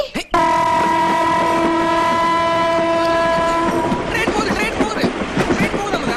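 A train blasts a long horn up close, then its cars rumble and clack past loudly on the track.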